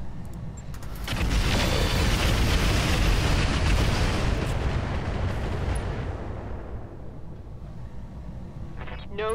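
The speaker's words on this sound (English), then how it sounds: "I think I will fire both rockets off on this guy" A mech in Roguetech fires a rocket salvo, a dense roaring barrage of launches and booming impacts building quickly, holding for several seconds, then tapering into rumble.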